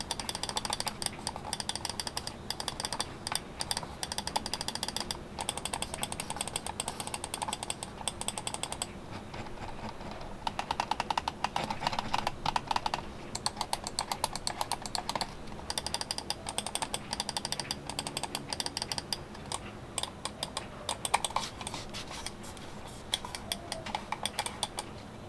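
The optical switches of a Pulsar Tenz Signature gaming mouse are clicked rapidly and continuously for about 25 seconds, giving a dense, crisp, close clatter of small clicks with short gaps.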